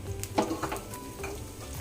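Vermicelli frying in a pan for sago-vermicelli kheer, a gentle sizzle with scraping stir strokes and light clinks of a utensil against the pan, close and moderately quiet.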